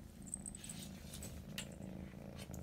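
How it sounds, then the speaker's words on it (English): A kitten purrs softly and continuously at very close range, a low rhythmic rumble at quiet level with no talking over it. "You can hear her purr just from happiness."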